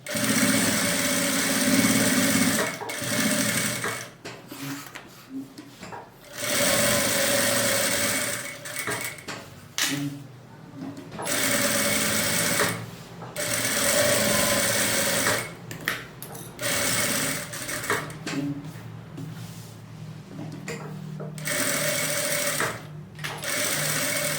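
A sewing machine stitches the fabric lining of a baby bag in several loud bursts of rapid, steady whirring, separated by short pauses as the fabric is repositioned.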